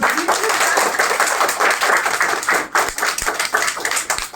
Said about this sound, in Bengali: সবাই একটা জোরে হাততালি দাও